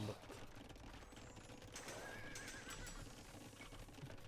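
Horse neighing in the video game Age of Empires II, a clear whinny in the middle with hoof clip-clop and game ambience around it, fairly quiet overall.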